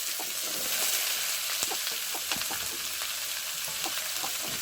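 Onions sizzling in hot oil with browned garlic in a pan while cooking chepa shutki bhuna in a village kitchen, a steady loud crackling fry with scattered pops.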